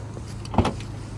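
A Renault Clio IV Business 1.5 dCi 75 hp hatchback has its rear boot opened. One short mechanical clunk of the latch and lid sounds near and moderately loud against a steady low background hum.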